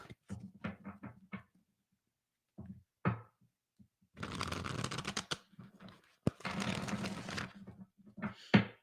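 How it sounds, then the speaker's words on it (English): A deck of tarot cards is shuffled close up, first in quick riffles and taps, then in two longer, dense bursts of crisp card shuffling with short pauses between them. "Let me extra shuffle this deck. Extra shuffle."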